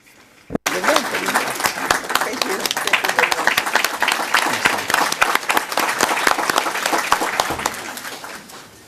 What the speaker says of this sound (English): Please let us give her a round of applause.